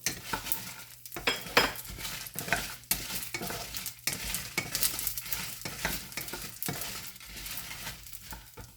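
Chillies roast in a pan for bitter gourd chutney, a steady close sizzle broken by repeated scraping stirs of a utensil against the metal, with no voices.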